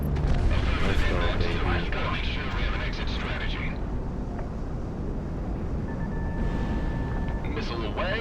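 In the Project Wingman flight combat game, a missile launches and strikes with a loud rumbling roar and blast, followed by steady engine drone with a thin warning tone late on.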